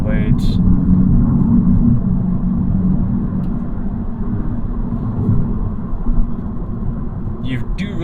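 Steady low road and tyre rumble inside a 2022 Honda Civic cruising on the highway, a continuous dense drone filling the cabin at constant level with a couple of faint brief clicks, no talking.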